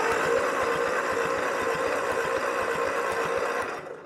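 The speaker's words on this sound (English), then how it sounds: "close the choke all the way, throttle all the way up, turn my key on, and see what we get." A Ford 8N tractor engine cranks over with the choke fully closed and the throttle wide open. It makes a steady, rhythmic churning for about four seconds, then trails off at the end, with no talking.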